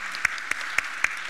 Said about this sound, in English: And I would like to have like a round of applause to our valuable panelists.